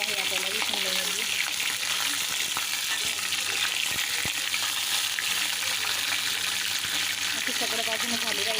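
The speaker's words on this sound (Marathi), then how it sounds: "आता चांगलं तेलात परतून घ्यायचं आहे आपल्याला" Stuffed capsicum (bell peppers) fry in oil in a pan, giving a steady bright sizzle that runs the whole time, with someone speaking over it now and then.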